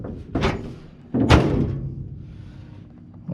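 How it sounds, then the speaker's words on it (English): The door of a 1934 Ford Coupe being shut, heard as two solid, close thunks about a second apart, each followed by a brief rattling decay. "And shut the door."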